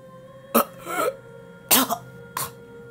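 An old man gives three short, rough coughs spaced about a second apart, close by, with throaty rasp trailing after the first two.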